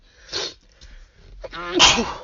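One sharp sneeze near the end, preceded by a couple of short breathy intakes and faint sounds, close and loud against otherwise quiet surroundings.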